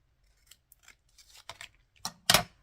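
Scissors snip through paper while trimming a piece for a papercraft project, a few light cuts building to sharper, louder snips near the end, heard up close with no voices.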